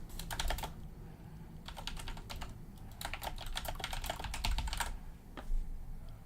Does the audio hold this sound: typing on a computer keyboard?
yes